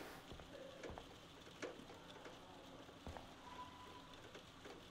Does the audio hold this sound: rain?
yes